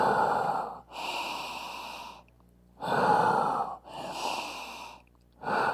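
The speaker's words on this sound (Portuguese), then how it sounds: "vai inspirar e soltar pela boca" Slow, deep breaths are drawn in and blown out through the mouth during a calming exercise for anxiety. The inhales and exhales alternate in a steady rhythm, close and quiet, with no talking.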